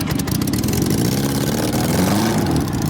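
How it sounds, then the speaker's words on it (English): Engine of a homemade junkyard-built flying boat running loud and close, a continuous dense rumbling drone like a small motorcycle engine, with no talk. "All right, you sewer rats, start your engine!"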